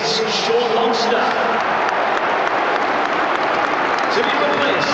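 Steady applause from a large football crowd at a Newcastle v West Ham match, greeting a substitution, with continuous clapping and crowd noise throughout while a commentator talks over it.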